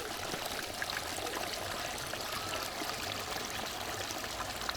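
Water pours steadily from a spring source in an English village, a constant, close rushing flow that stays even and unbroken from start to finish, with no voices.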